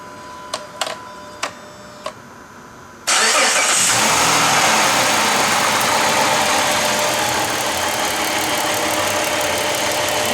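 A car engine cranks and catches after an engine flush, preceded by a few faint clicks, then settles into a loud, steady, rough idle that runs continuously up close.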